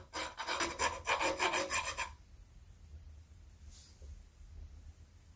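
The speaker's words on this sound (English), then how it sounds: "It's a fine file, and I'm just gonna gently see if I can take that burr down" A fine metal file rasps across a burr on a Pontiac V8 engine part, giving about two seconds of rapid rhythmic close filing strokes, then quiet with faint background noise.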